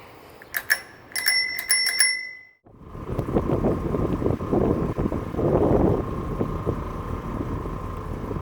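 An old Schwinn bicycle out for a cruise, its bell ringing in several quick bright dings near the start, then steady wind buffeting and rolling road noise as it rides along.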